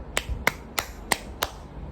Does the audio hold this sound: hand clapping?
yes